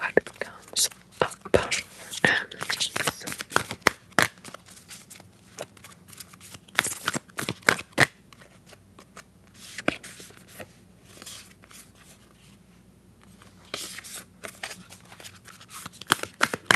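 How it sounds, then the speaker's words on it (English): A deck of oracle cards is shuffled close up during a whispered ASMR session, with quick papery riffles and taps that cluster early and then thin out beneath soft, continuous whispering. "Let's shuffle about and see what comes up."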